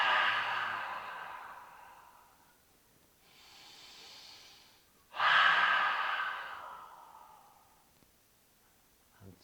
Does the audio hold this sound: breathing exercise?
yes